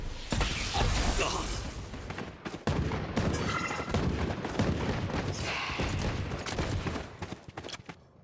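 Dense, rapid pistol and weapon fire crackles almost without pause during a professional Valorant match, loud and close, with brief gaps and a voice faintly mixed in.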